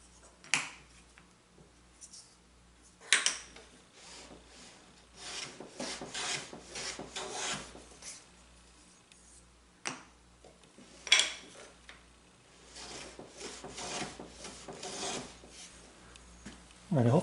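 A hand plane shaves wood in a series of soft, raspy strokes that come and go irregularly, fairly faint and close by, with occasional sharper knocks between passes.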